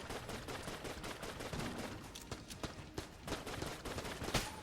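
Rapid gunfire in the Enter the Gungeon video game comes as a dense, continuous stream of quick bullet pops and clicks with no letup. It plays under busy game sounds and music.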